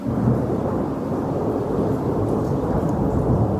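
Steady rumbling of thunder and rain during a storm, heard from inside a tent on a solo motorcycle trip, a continuous loud low roar with no talking.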